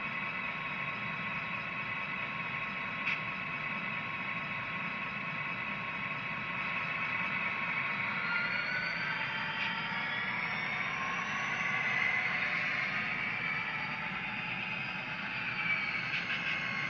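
A Tsunami 2 sound-equipped model locomotive engine revs up steadily to speed and then eases off the throttle on its own, a continuous close mechanical drone that rises and settles.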